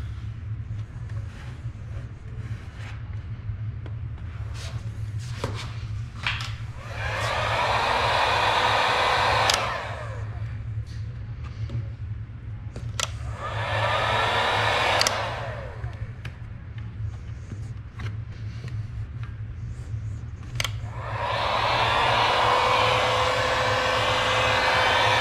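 A heat gun blows in three sustained bursts of broadband airflow, warming vinyl graphics on a Raptor 250 quad, with a steady low hum running underneath and short pauses between each burst.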